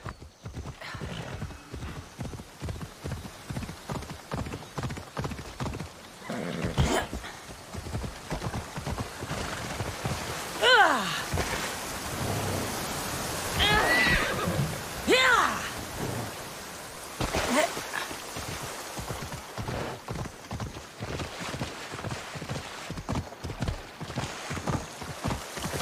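A horse gallops in Assassin's Creed Odyssey with a fast, rhythmic clip-clop of hooves throughout, joined by a couple of whinnies, a rumbling thunder-like swell and rain-like hiss in the background.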